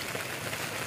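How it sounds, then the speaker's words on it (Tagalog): Steady rain pattering on a surface outdoors at a mini farm during construction of a roofed hut, a continuous even hiss with no talk. "Umuulan pa rin. Ayaw tumigil ng ulan."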